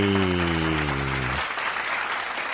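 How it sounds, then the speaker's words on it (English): Applause from a small group on a tech podcast recording rises under a low tone that drops away, then continues as an even patter of clapping hands. "Clapping us out."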